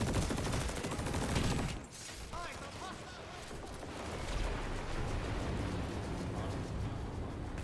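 Rapid automatic gunfire rattles in a video game during a live-fire training session, dense and continuous bursts with a brief dip, heard alongside game announcer voices.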